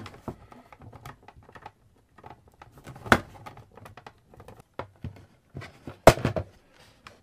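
A screwdriver works the single screw out of a ZX81 home computer's molded plastic case: sparse, close, small ticks and scrapes with two sharper clicks, no voice.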